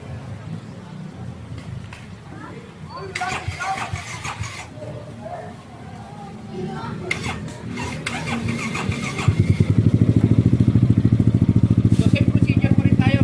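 A Yamaha XMAX 300 scooter fitted with an RDR Racing exhaust cranks and fires up partway through, then settles into a loud, throbbing idle close by. Voices talk over some of the earlier part.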